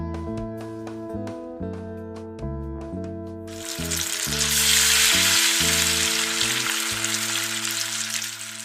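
Flour-coated chicken legs lowered into hot oil, setting off a sudden loud, dense hiss of frying that keeps bubbling steadily, laid over continuous background music.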